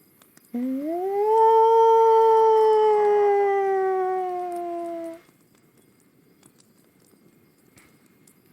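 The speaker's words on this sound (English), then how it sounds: "Do you hear a howl off in the distance?" A wolf howls from a forest off to the west: one long, loud howl that rises, holds, and slowly sinks over about four seconds, heard alone before quiet returns.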